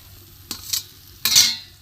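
Pitha in hot oil gives two short, close bursts of sizzling and scraping, the second louder and longer, over quiet low hiss.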